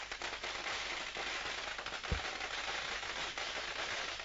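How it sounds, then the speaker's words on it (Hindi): Firecrackers go off at an Aam Aadmi Party workers' celebration: one low, faint burst stands out midway through a steady, crackling outdoor background. "ये देखिए पटाखा फोड़ कर जश्न मना रहा है आम आदमी का"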